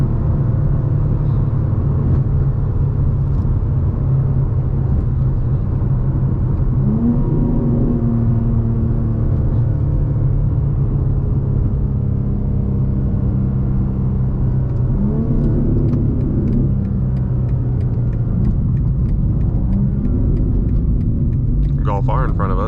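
BMW G87 M2 driven in Vegas with a loud exhaust, a deep continuous engine rumble inside the car that swells through several rev rises and gear changes, with a person talking over it throughout.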